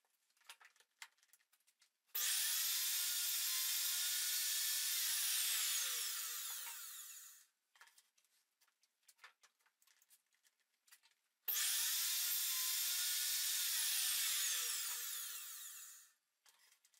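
Two long passes of a power saw cut 6 mm spline slots into wooden picture frame corners, each a loud, steady whine lasting several seconds before spinning down, separated by quiet handling clicks.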